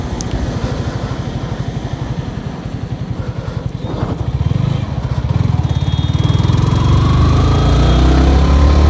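A Yamaha R15 V3 motorcycle engine putters at low revs during a U-turn, its rhythmic close-up thrum swelling as the throttle opens and climbing to a busier drone toward the end.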